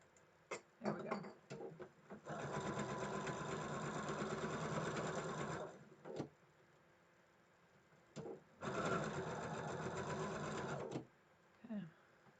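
A home sewing machine stitches a Moda Blockheads 3 quilt block in two close, steady bursts of rapid needle clatter, with a few short handling clicks before and between the runs.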